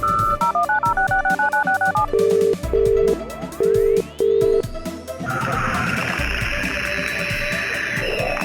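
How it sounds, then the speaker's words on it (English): A telephone number is punched in by computer, sending a quick run of evenly spaced DTMF keypad beeps, then a few longer tones. Loud and close, they give way to a steady hiss of line noise with no talking. "dial the number on the postcard and patch the audio feed into the viewers"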